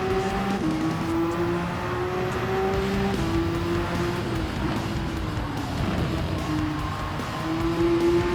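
A race car engine drones and shifts pitch from an onboard view at a Lago Maggiore race, loud and continuous with rising and falling revs.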